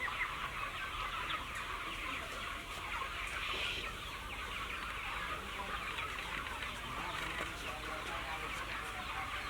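Chickens clucking in a farmyard, soft scattered clucks over a constant faint background hiss, with no clear talk.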